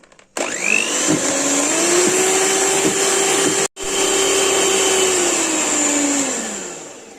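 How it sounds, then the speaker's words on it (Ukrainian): An electric mixer beats sugar into sponge cake batter, one spoonful at a time until it dissolves, with a steady close whir that runs for several seconds, cuts out briefly and then resumes before winding down. "Одну всипали і починаємо збивати до повного розчинення."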